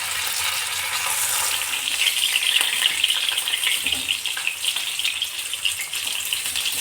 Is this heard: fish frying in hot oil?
yes